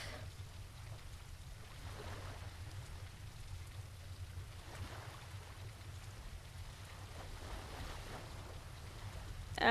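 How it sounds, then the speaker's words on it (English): Steady rain falls outside in the video game The Lightkeeper, a soft, continuous hiss that holds evenly throughout without any talk. "Oh gosh, it must be raining outside."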